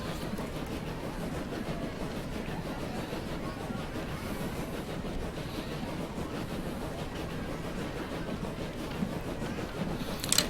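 A train in Transport Fever runs along the rails with a continuous low rumble and rolling clatter, steady and moderately loud throughout, ending in a brief sharper noise.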